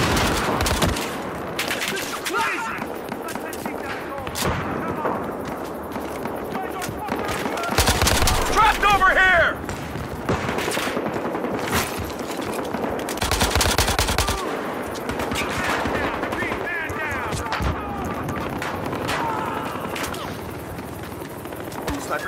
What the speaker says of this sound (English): Shit, I'm taking heavy fire.